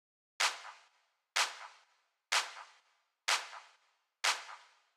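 A soft snare drum from a Logic remake of a song strikes five times in isolation, each crisp hit evenly spaced about a second apart with a short decaying tail.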